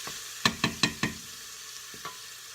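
A spoon stirs vegetables and tomatoes frying in oil: four quick scraping knocks in a row, then a softer one after a pause, over a faint steady sizzle with no voices.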